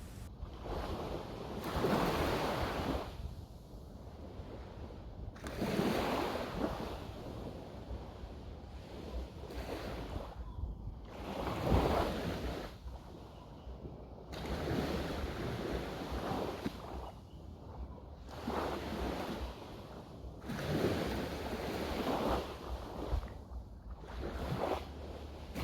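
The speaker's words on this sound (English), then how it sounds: "allow the sounds of the waves to wash over you and through you" Ocean waves roll in and wash out in slow, regular swells, each surge rising and fading every few seconds, with soft wind noise throughout and no voices.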